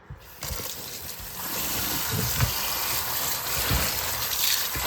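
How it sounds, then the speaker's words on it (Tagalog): Water pours steadily into a cooking pot, a continuous splashing rush that stays close and fairly loud. "lagyan ko ng tubig"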